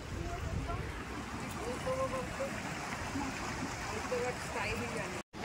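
Hundru Falls in Ranchi roars as a steady, dense wash of falling water, loud and continuous throughout with no break, a brief dropout near the end.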